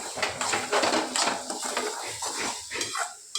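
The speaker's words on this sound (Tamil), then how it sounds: "இப்போ வதக்குறாங்க, நல்லா வதக்கி அந்த அடுப்பில் வெந்துட்டு பாரு." Jackfruit halwa being sautéed and stirred in a pan, a spoon scraping and clinking against metal with soft sizzling, close and fairly quiet with no talk.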